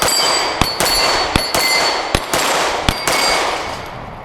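A Walther P99 9mm pistol fires rapid shots at a steel plate rack outdoors. Sharp reports come in an uneven run, each followed by a bright ringing clang, over a steady background hiss.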